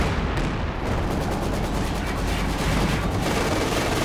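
Mortar pits firing in Company of Heroes 2 during a 2v2 battle: dense, continuous rumbling barrage of booms and gunfire, loud and unbroken throughout with no pauses.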